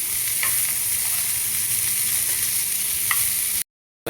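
Cabbage, carrot and capsicum stirred in a hot frying pan for a village-style egg roll, a steady loud sizzle with occasional scrape accents from the utensil, cutting off abruptly near the end.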